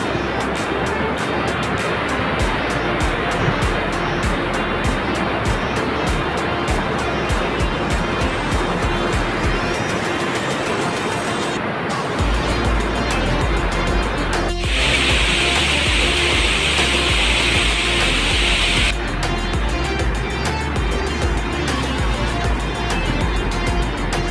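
Strong rushing water at Binibitinan Falls, a tall, cold, rocky waterfall, roaring as a loud continuous wash that shifts in tone partway through, with no talk.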